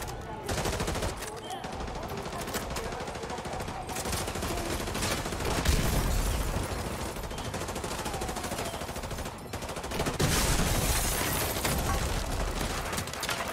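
Sustained automatic gunfire in Call of Duty: Modern Warfare 2 Remastered, loud dense rattling bursts with brief pauses, continuing across the whole stretch with occasional heavier impacts.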